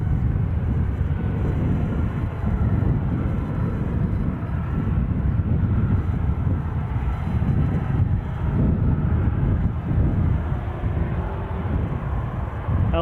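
A KLM airliner on approach at Edinburgh airport, a steady low rumble of distant jet engines mixed with wind, droning evenly without clear peaks and no talk.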